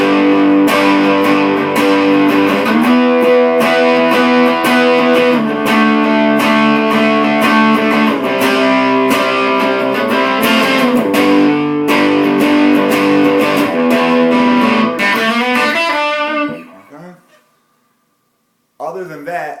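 An electric guitar strums distorted chords through an amp with a little reverb, loud and sustained, then cuts off and the notes decay away before a brief final strum.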